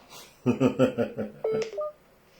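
A phone dials out to call back after a dropped call, a quick run of close keypad tones in steady rhythm ending in a brief higher beep.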